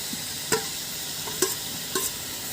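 Turul vegetable stems being stirred in a frying pan, with three distinct scraping stirs spaced about a second apart over a faint background sizzle.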